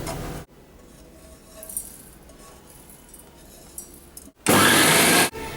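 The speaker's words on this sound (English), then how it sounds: "Now we will grind this mixture in mixer grinder and we'll make" A mixer grinder whirs in one loud, steady burst of about a second near the end as it grinds chili pickle masala into a fine powder, after a long quiet stretch of faint room noise.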